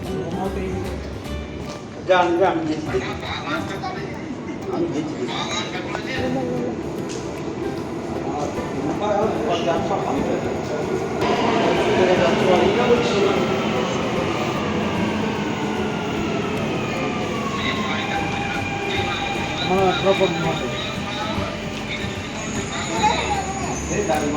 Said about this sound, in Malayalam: ഞങ്ങളിപ്പം മെട്രോ കയറാൻ പോവാണ്.